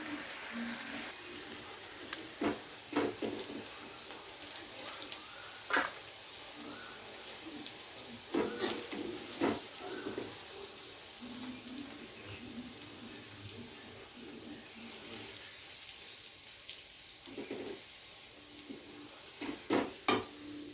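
Spring onion stalks lifted out of hot frying oil in a pan, with a low steady sizzle under scattered scraping and clinking of a spoon against the pan and faint splashy water sounds, no talk.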